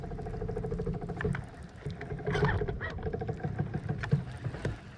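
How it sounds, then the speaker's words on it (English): A boat's trolling motor runs with a branch caught in it, making a close, continuous rattling churn with rapid patter and periodic thumps, steady and moderately loud throughout. "What is this noise? It's a dang branch caught on my trolling motor."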